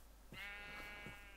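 A single sheep bleat from Minecraft, heard while sheep are being sheared. The bleat is clear and wavering, starts after a short quiet moment and holds for about a second with no talking.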